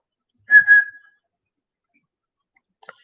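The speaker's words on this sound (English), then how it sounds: "he'll pay attention to a little whistle." A short two-note whistle, clear and fairly close, followed by silence and a faint tap near the end.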